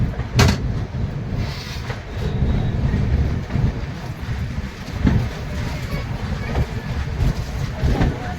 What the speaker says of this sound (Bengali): 3-4 মিনিট দাঁড়ানোর পরই মানিকপুর থেকে ট্রেন ছেড়ে দিয়েছে।